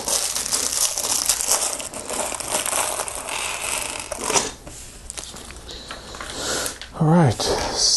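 Plastic bags from a Lego Friends Heartlake Skate Park set 41099 being handled: close, busy crinkling and crackling with rustles and brief tearing sounds, almost continuous.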